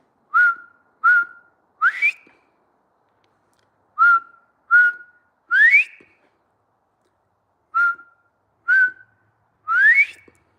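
Whistled human imitation of a Bobwhite quail call, given three times in a steady pattern: two short level notes followed by a sharply rising slurred note, clear and close in a quiet room with no talking.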